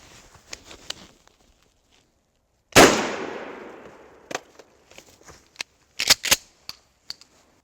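A single loud gunshot from Federal Premium law enforcement ammunition at a shooting range, followed by a long decaying echo, then a few sharper clicks and cracks nearby.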